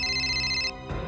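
An electronic phone ring tone sounds steadily for under a second, then cuts off as a faint background noise follows.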